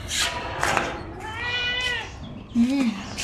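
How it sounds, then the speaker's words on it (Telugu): A cat meows with a drawn-out, wavering cry, followed by a shorter low call, indoors near people eating rice and bitter gourd curry. People talk around it. "పిల్లి కూడా వచ్చింది."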